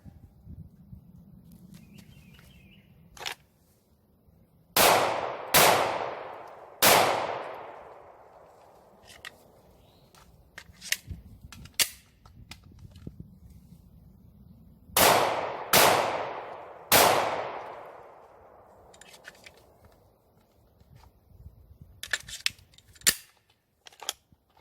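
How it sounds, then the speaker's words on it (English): Handgun fire during combat live-fire drills, with two groups of three loud, sharp pistol shots ringing out with a decaying echo, and quieter clicks and handling noise between the strings. "Live fire."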